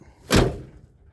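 A crew cab pickup's rear-hinged suicide door swings shut with a single solid slam and thud, close by, the boom tailing off quickly into quiet.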